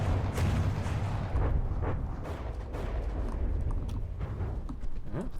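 Naval guns on warships fire in From The Depths, a steady barrage of heavy booms and sharp cracking shots at moderate distance over a constant low rumble.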